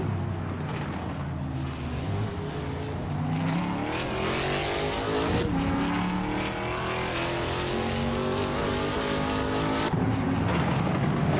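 Several race cars, among them a Ford Mustang, roar continuously in a racing video game, with engine notes rising and shifting as the cars run in a pack. A steady, loud drone continues throughout with no talk.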